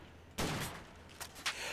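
Gunfire in a shooter video game on Reload: a loud burst of shots opens, then two shorter sharp shots follow over a steady low background.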